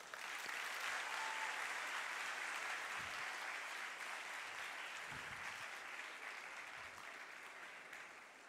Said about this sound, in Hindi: अगर नहीं है तो फिर उस आदमी के लिए तालियां बजाइए